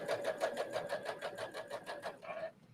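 A Brother sewing machine stitches at medium speed, a rapid even mechanical chatter of needle strokes that runs steadily and then stops near the end.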